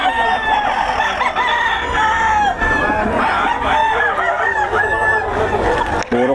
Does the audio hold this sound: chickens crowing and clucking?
yes